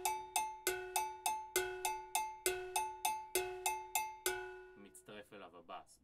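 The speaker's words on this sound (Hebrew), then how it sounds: "זה מתחיל מפאטרן של פעמונים." A Moroccan Gnawa groove bell pattern of bright, ringing metallic strikes in a steady, syncopated repeating rhythm, each ring decaying quickly, before a voice begins speaking near the end.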